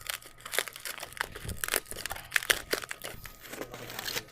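Foil wrapping being peeled off a glow toy, making close, continuous crinkling and crackling with irregular sharp rustles and no talk.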